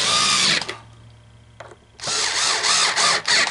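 A small 4-volt electric screwdriver drives screws into a vending machine coin hopper, giving two loud whirring bursts separated by a quiet pause with faint clicks.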